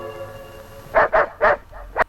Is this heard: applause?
no